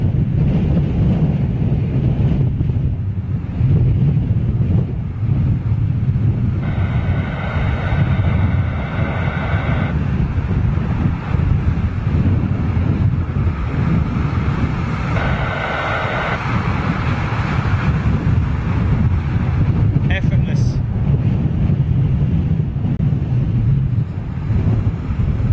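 Steady wind buffets the microphone outdoors near a place where big jets pass, a continuous low rushing roar with a few faint higher tones rising briefly in the background.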